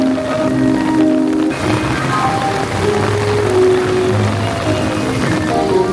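Heavy rain pours down at Universal Orlando Resort in Florida, a loud broad wash of drops hitting the ground and nearby surfaces, steady and close, with no one speaking.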